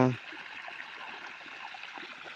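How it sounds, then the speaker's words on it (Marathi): Irrigation water flows steadily into a pigeon pea field on a farm, a soft continuous trickling and gurgling stream heard close by, with a brief thump at the start. "आपलं तुरीला पाणी चालू आहे"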